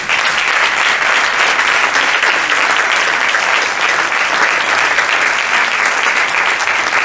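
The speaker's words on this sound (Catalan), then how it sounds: "així que un aplaudiment a tots vosaltres" Steady, dense applause from a film festival audience continues unbroken for the whole stretch, loud and close, with no talk on top.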